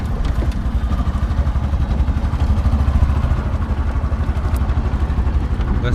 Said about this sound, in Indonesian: Ini becaknya pakai motor dan pakai kayak kereta kencana gitu.